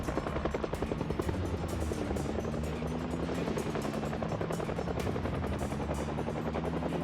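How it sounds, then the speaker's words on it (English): In the video game Project Zomboid, a helicopter drones overhead with a steady, fast rotor chop that keeps going throughout, nearby and dominant, without speech. "the heli was still just barely following me"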